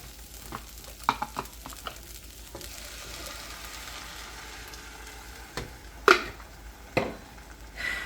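Blended sauce is stirred into corn frying in a pan, a soft sizzle under repeated sharp spoon knocks and scrapes, louder clatter near the end.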